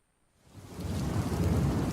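A thunderstorm sound effect on a morning radio news program: steady, heavy rain with a deep thunder rumble that swells in from silence and holds loud to the end, with no voices.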